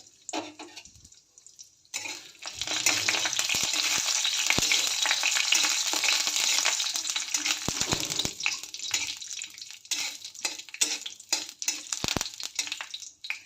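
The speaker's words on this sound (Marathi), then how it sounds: "ह्यामध्ये सुरुवातीला थोडं खोबरं थोडंसं परतून घेऊया" Coconut frying in oil in a kadhai for dhaba-style shev bhaji: after a quiet start, a loud, dense sizzle surges and holds, then thins out into scattered spatula clicks and taps, with no speech.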